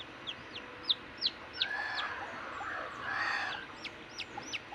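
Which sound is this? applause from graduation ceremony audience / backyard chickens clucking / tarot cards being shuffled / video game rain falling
backyard chickens clucking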